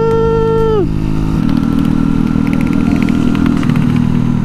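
A Yamaha R15 motorcycle engine on a test ride, loud and close, dropping from a high rev to a steady low idle-like drone with slight clattering, no voices.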